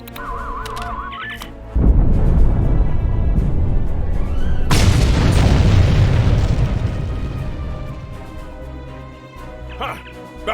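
A loud explosion in the video game Star Trek Online bursts in suddenly, then a second, sharper blast follows a few seconds later. Both roll out into a long rumbling tail over game sound and a voice.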